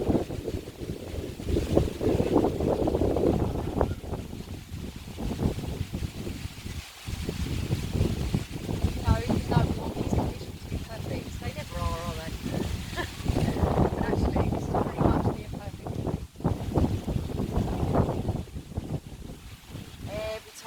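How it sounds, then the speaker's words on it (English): Outdoor wind in Phu Quoc, Vietnam rushes steadily into the microphone, a broad continuous roar with gusts, while a calm voice talks over it throughout. "You can hear the wind here."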